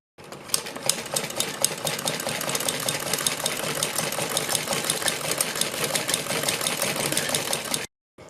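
A sewing machine stitching along a folded fabric neckline, running continuously at a quick, even, mechanical clatter, close and steady, then stopping abruptly, with no voices.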